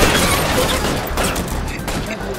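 Gunfire in the LA Noire video game, with a partner cop firing in a shootout, comes as a dense, continuous barrage of shots over 2.5 seconds, loud and fairly close, with a voice talking underneath.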